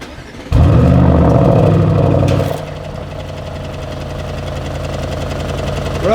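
A 2020 Audi RS7 fires up with a loud burst, then drops into a steady, rumbling idle that holds close and alone for several seconds.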